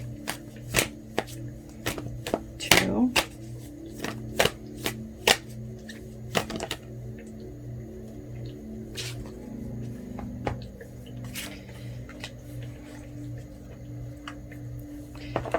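Tarot cards are shuffled in quick riffling bursts and sharp taps, close by, then settle into softer, slower handling and a few isolated snaps.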